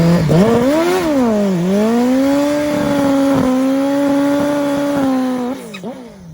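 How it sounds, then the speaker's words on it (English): An old school Kawasaki turbo funny drag bike engine holds a loud, steady drone with a rich harmonic whine, swelling briefly early on before settling into a sustained rev and falling off at the end. "this is the old school turbo funny bike of Glenn Nickelberry"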